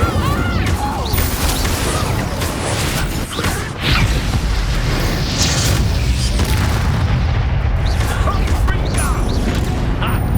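Incendio and Expelliarmus spell blasts in the Hogwarts Legacy video game, dense repeated booms, crashes and whooshes in a loud continuous battle with voices mixed in.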